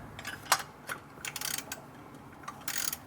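Oil filter housing on a 2016 Volkswagen Jetta 1.4L being tightened by hand, a few quiet plastic clicks and ratcheting scrapes in short bursts, close up in a quiet space.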